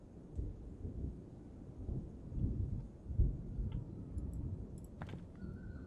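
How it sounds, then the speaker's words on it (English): Thunder strikes from a cloud in a dark horror video game, a low rolling rumble building in swells and peaking once before fading under faint scattered electronic tones. "I hear thunder strike from the cloud above Dimlose."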